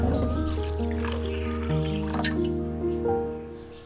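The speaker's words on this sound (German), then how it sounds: "Den Reis dann in eine Schüssel geben, mit Wasser auffüllen, bis er bedeckt ist" Water runs into a bowl of glutinous rice being covered for soaking, a close, continuous fill whose pitch climbs in rising tones as the level goes up, fading toward the end.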